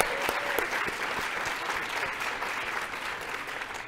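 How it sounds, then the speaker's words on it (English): A crowd claps steadily at the Asian American Foreign Affairs Association leadership dinner, a sustained, even wash of applause for about four seconds, heard at a modest distance and fairly soft. "Can I get another applause?"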